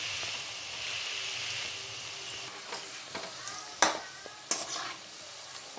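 Drumstick leaf pakoda fries in hot oil with a continuous bubbling sizzle, then sharp scrapes and splutters as the fritters are turned, close and fairly loud, with no one talking.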